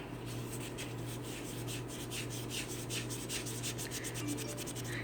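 Scrubbing with a small piece of Mr Clean Magic Eraser gives a steady, close rubbing scuff in quick repeated back-and-forth strokes, continuous and moderately quiet, with no talking.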